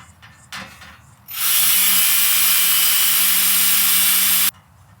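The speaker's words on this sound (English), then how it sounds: "Just getting real sick of drilling into metal, you know?" A power drill bores into metal on a four-wheel-drive vehicle build, a loud steady whining grind lasting about three seconds after a couple of brief knocks, then stopping abruptly.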